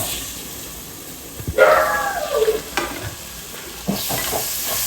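Tomatoes stirred into browned, frying masala for a spicy sardine curry: close, loud sizzling and scraping of a spoon in the pan, with a brief squeaky tonal burst partway through.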